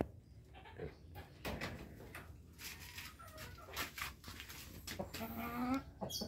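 Brahma chickens clucking and murmuring nearby, with a louder squawk near the end, over a steady farmyard background.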